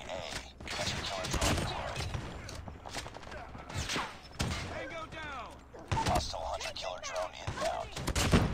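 Shotgun fire in a first-person video game, a series of heavy, punchy blasts mixed with clattering reload and mechanical sounds. Voices and other game effects run alongside.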